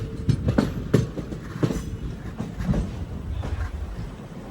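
The Kakatiya Express passenger train rolls along the rails at night, its wheels giving a steady, close clickety-clack with irregular thumps over a continuous low rumble.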